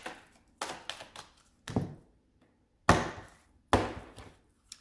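A deck of oracle cards being cut by hand, heard as several sharp papery taps and riffling slaps in an uneven rhythm, close and fairly quiet, with short silences between them.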